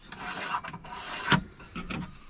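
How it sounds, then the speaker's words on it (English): A blade scores a line into the wooden underside of a van worktop, producing short rasping scrapes in a few strokes with one sharper knock, close and alone. "What I need to do actually is just score it underneath"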